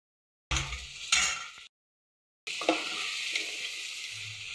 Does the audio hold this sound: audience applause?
no